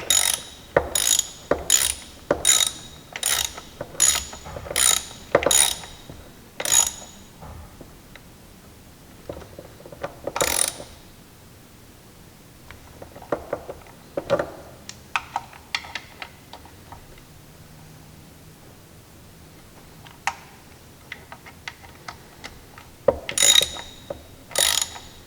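Ratchet clicking in quick bursts while tightening the carburetor mounting nuts on a Johnson outboard motor, a rapid run of sharp close clicks at first and then scattered clicks and handling noises across a quiet workbench.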